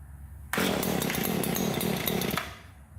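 A petrol string trimmer engine catches after a pull on its cord and buzzes loudly and close for about two seconds before dropping back to a quieter idle.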